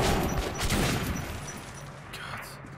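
Rapid gunfire in the video game Metro Last Light Redux, a burst of dense shots at moderate level that thins out and fades over a few seconds.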